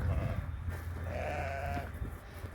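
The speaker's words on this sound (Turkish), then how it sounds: "Koyunlara bak." Sheep bleat over a low rumble of outdoor noise, a wavering call rising in the middle of the clip, fairly close.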